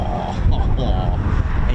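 Pratt & Whitney piston engines of a Douglas C-47 in Southeast Asia Command livery pass overhead at a flypast, a steady broad propeller drone under a commentator's continuous talk.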